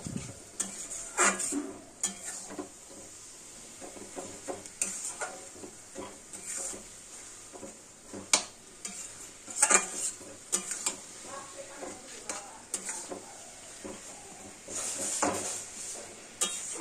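A spoon stirs melted jaggery through an elephant apple pickle in a pan, giving repeated soft scrapes and light clinks against the metal. The stirring is steady and close, with no talking.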